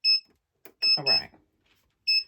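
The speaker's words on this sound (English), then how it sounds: "it's beeping to let me know that it's ready" Heat press beeping when ready for sublimating a T-shirt: three short, loud, high electronic beeps spaced across two seconds, with a brief burst of speech in between.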